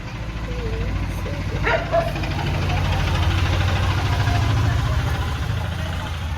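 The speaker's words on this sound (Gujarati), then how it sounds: "કૂતરું છે." A dog barks in a short burst over a steady idling engine rumble outdoors, with people talking nearby.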